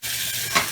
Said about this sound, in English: We got to fry that bacon up a little bit.